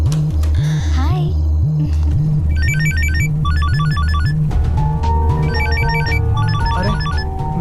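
A mobile phone left behind rings with a looping electronic ringtone, loud and close, its melody repeating in bursts over a low pulsing hum and background clatter.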